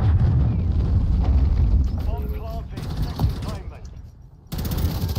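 Gunfire and explosive impacts in a Call of Duty Modern Warfare III Search and Destroy match on Shoot House, with a cruise missile strike, dense rumbling blasts and rattling shots up close, voices chattering over the action.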